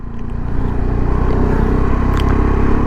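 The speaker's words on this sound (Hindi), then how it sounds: "दो बाइकर्स अभी क्रॉस किए" Two motorcycles pass on a mountain road near Upshi on the route toward Manali, their engines droning steadily and close amid vehicle noise.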